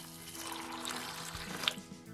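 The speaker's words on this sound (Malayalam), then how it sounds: "ഇനി ഇതിലേക്ക് 3 കപ്പ് വെള്ളം ഒഴിക്കുക." Three cups of water pour onto a cup of dried chickpeas set to soak, a soft, brief, close trickle and splash with no talking.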